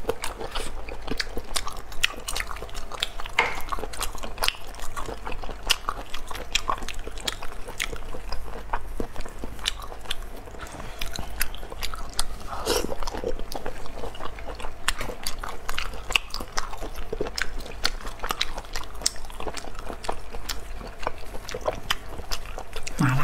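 Thin-shelled spicy snails are bitten and chewed up close in an eating ASMR session, giving a steady stream of crisp cracks and wet chewing that continues without a break.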